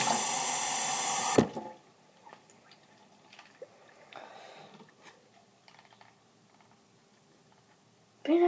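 Water gushes loudly from a tap for about a second and a half, then cuts off sharply, leaving quiet clicks and small handling noises before a brief burst of water returns at the very end.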